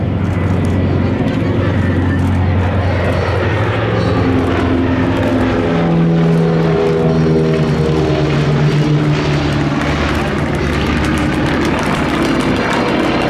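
A Grumman Albatross and a Douglas DC-3 fly together at a seaplane gathering in Biscarrosse, France. Their piston propeller engines produce a loud, sustained drone with slowly shifting pitch as they pass, while voices can be heard faintly underneath.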